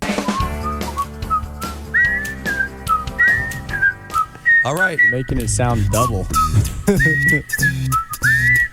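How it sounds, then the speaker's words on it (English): Someone whistles a tune, with a second whistled line overlapping it, while people talk over the top. "You're whistling it on the background over there."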